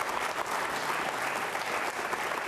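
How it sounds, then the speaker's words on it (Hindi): A studio audience at a quiz show on organ donation claps loudly in a continuous, even burst of many hands, close and full, with no voices standing out above it. "तालियां जोरों से बजाइए, जोरों से बजाइए"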